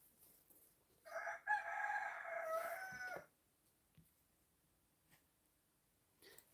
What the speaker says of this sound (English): Right now, you're just hearing roosters.